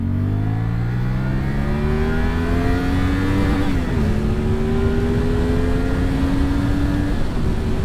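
CF-Moto 450 SR-S motorcycle accelerating hard in first gear, a loud, close engine note rising steadily in pitch, dipping briefly at a shift point, then climbing again over heavy wind rush.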